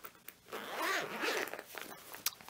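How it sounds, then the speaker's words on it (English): A zip-around travel makeup bag of scratch-resistant material is unzipped close up, a rasping zipper pull that swells and fades over about two seconds with small clicks of handling. "it's a zip around"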